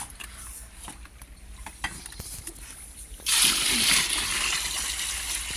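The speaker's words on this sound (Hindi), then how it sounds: "अब इसमें दोबारा पानी डाल दूँगी यहाँ से।" Water is poured into a container of wheat grains for a second rinse, a gushing, splashing rush that starts partway through after quieter stirring and handling sounds.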